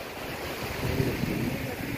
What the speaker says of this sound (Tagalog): kasi malakas yung alon.